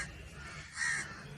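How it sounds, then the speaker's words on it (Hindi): A crow caws in an animated Hindi-Urdu moral story about birds, one short, harsh call rising briefly over a steady low background hum. "कव्वी कपड़ा लेकर तेजी से उड़ती हुई चिड़िया की दुकान पर पहुंच जाती है"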